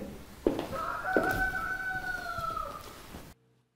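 A rooster crows loudly and close by, one long drawn-out call that rises and holds before trailing off, with faint background noise and then silence.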